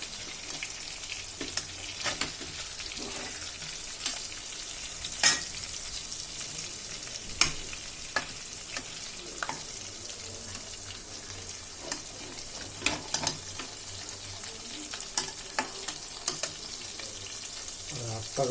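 Fish frying in hot oil gives a quiet, steady sizzle broken by scattered clicks and scrapes of stirring or handling in the pan.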